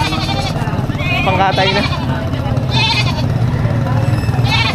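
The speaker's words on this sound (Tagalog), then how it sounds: "Napakalaking kambing nga." Goats bleat amid steady chatter at a livestock market for cattle, goats and carabao, their wavering calls rising now and then over continuous nearby talk and crowd noise.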